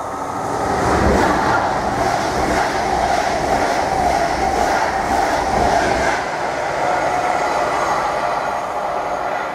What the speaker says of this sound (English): we've got another Mark 3 set coming now